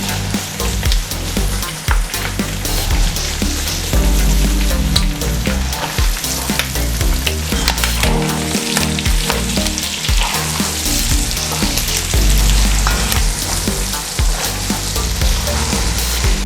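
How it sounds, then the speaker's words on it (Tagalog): Garlic, ginger and onion are sautéed in hot oil for a smoky Bicol Express, making a loud, continuous sizzle and crackle with stirring and scraping throughout. "igigisa na natin siya. Meron tayong bawang, ating luya, ginger, then yung sibuyas natin"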